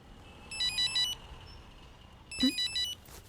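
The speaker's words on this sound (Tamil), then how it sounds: "என்ன ஏன் ஃபோன் அடிக்குது?" A mobile phone ringtone plays in two short bursts of bright, repeating electronic beeps, with a brief pause between them and a faint bump in the second burst.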